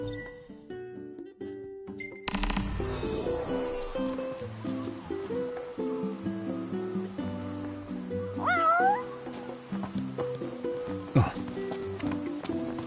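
A cat meows a few times in Final Fantasy XV, a short rising mewing call partway through, heard over steady game music and ambient sounds.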